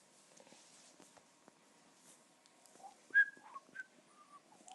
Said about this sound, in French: Arrête de siffler.